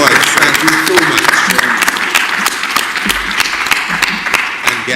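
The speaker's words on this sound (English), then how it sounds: "Let's a round of applause." An audience at a live event breaks into steady applause, a dense wash of clapping that carries on evenly throughout, with some voices mixed in beneath.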